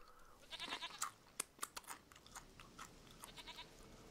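A goat in The Witcher 3 bleats in short bursts and chews with crunchy, irregular mouth sounds over a quiet game backdrop, fairly close and moderately loud.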